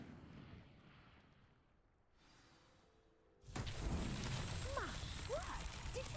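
An Incendio fire spell burns vines and a pyre in Hogwarts Legacy. A faint, quiet stretch ends abruptly when a loud rushing flare of flame bursts in, then keeps roaring with swishing, crackling bursts.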